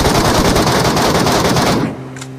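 Rapid automatic gunfire in the battle royale game BGMI rattles loudly in a dense, continuous burst for nearly two seconds, then cuts off abruptly, leaving a quieter hum behind.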